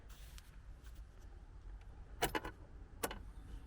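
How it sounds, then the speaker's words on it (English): A classic Mini Cooper's electric fuel pump primes as the ignition is switched on, a few brief ticking clicks at close range over low background hum, with no voices. "Oh, I heard the fuel pump."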